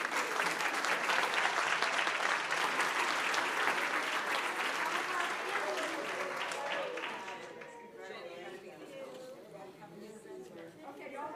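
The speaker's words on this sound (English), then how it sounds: "Let's give them all a round of applause." Board meeting audience giving a round of applause for education staff, sustained clapping for about seven seconds that fades into murmuring chatter and voices.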